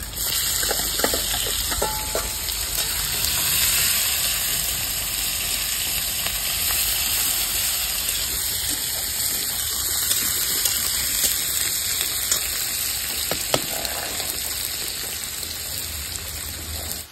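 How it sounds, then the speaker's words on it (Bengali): Whole cumin and chopped onions frying in hot oil in a pan, a steady close sizzle that runs throughout with small crackles and occasional utensil clinks. "দিয়ে দেবো গোটা জিরে, কেটে রাখা পেঁয়াজ দিয়ে দেবো"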